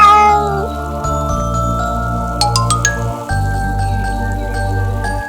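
A sad cartoon kitten meows plaintively over soft music with light tinkling chimes, the cries drawn out and close in a gentle animated scene.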